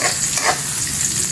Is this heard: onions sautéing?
yes